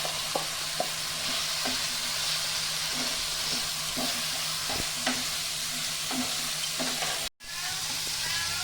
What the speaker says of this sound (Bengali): আলু, চাল, মশলা সব একসাথে একটু ভালো করে ভেজে নেব।